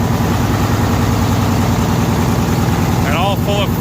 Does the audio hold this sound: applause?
no